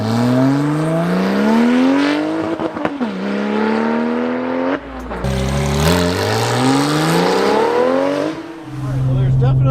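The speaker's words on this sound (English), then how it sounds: "Tons of whistle. Tons of great sounds from this engine." Straight-piped Porsche 911 Turbo engine revving hard and continuously up and down with turbo whistle, loud and close, several climbing sweeps in a row.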